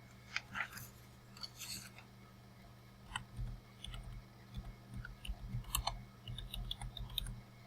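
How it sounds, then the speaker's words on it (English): Someone types a search query on a computer keyboard, with irregular bursts of crisp key clicks, some pauses between keystrokes and a low steady hum underneath, close and alone. "I can just type it in the search box"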